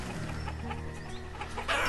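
Chicken farm in the video game Banished: scattered clucking from several hens over a steady ambient farm bed, faint and somewhat distant, with a brighter swell near the end.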